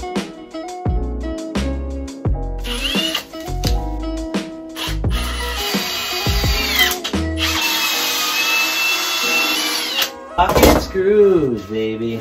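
A power drill drives screws into framing in a school bus garage build, sounding in loud close bursts of whirring and thunking between pauses, with music and speech mixed throughout.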